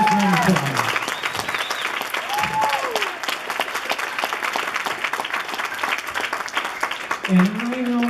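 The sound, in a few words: audience round of applause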